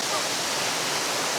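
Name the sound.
waterfall on the Shizhu Peak hike, Hunan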